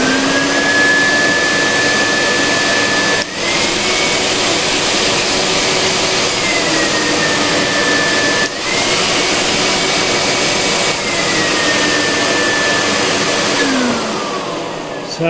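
A Henry vacuum cleaner runs loud and close with a steady whining motor hum, its pitch drifting slightly up and down, with a couple of brief dips in the drone and no talking.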